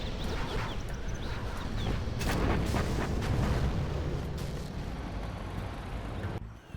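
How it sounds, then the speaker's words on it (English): Artillery fire in a USA versus infantry strategy game match on a mountain map, a dense rumbling barrage of overlapping booms and blasts that swells and continues for several seconds. "artillery coming through"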